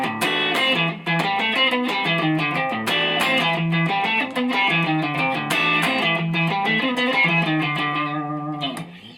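Electric guitar plays a fast outro solo lick from a live song performance, with repeated downstroked phrases over sustained harmonics and effects, steady and loud throughout, then fading slightly at the end.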